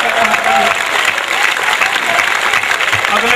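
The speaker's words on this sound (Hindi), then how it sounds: "तालियां मिलकर बजा दो एक बार आप।" An audience at a comic poetry gathering claps loudly together in a dense, sustained burst, with voices faintly mixed in beneath the applause.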